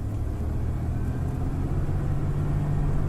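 A car's exhaust rumbling steadily while cruising at night, a deep continuous low drone heard from inside the vehicle with a gradual rise in pitch, no voices over it.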